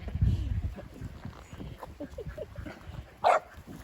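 A dog near sheep gives a few short, soft yips and whimpers, then one sharper bark, fairly close amid low background noise.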